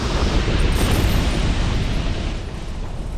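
Explosion in Dark Souls 2, a loud, dense roaring blast that sustains and slowly tapers off with no talking.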